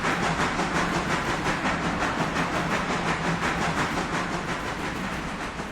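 Mikado steam locomotive from a train simulator game, chugging steadily with a dense, continuous rumble and hiss and rhythmic exhaust beats, loud and close with no talk.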